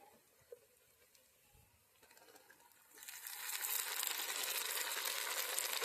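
A soft pour of tomato puree into a pan starts partway through, a steady broadband splashing and sizzling that grows louder and continues to the end, after a quiet opening.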